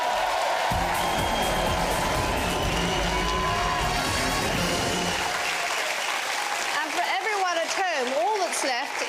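Studio audience at a televised popular music quiz show breaks into loud, sustained applause and cheering that fills the room, the clapping dense and steady throughout with a tonal swelling sound rising toward the end.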